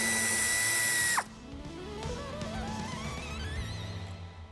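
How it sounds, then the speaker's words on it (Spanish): Power tool spinning to loosen a screw on the battery power distributor of a 2024 Volkswagen Transporter T7, a loud high whine that cuts off sharply, followed by a fainter rising mechanical whir. "Aflojamos el tornillo."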